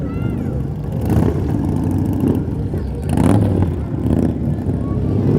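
Harley-Davidson motorcycles rumble and rev loudly as they pass close by in a Christmas parade, with voices talking underneath the engine noise.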